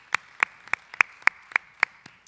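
Sparse applause at a meeting: about eight slow, evenly spaced hand claps ring out sharply and moderately close, fading toward the end with no talk.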